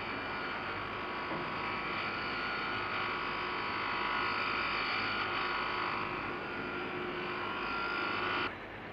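Steady high-speed carborundum wheels grind big end and main bearings of a Jaguar engine in a 1961 factory, a continuous loud whirring hum that cuts off abruptly near the end.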